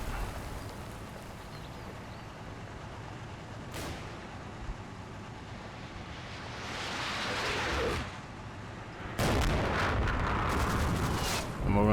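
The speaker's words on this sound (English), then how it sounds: "More artillery going in." Artillery fire in the Combat Mission: Battle for Normandy wargame, a steady low rumbling battlefield bed broken by a couple of sharp distant booms and a heavier roaring barrage near the end, with a voice talking over it.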